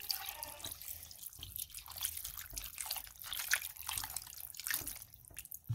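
Water poured into a cooking pot for snail gravy, a close, quiet run of splashing and dripping with uneven bursts, alone without voices.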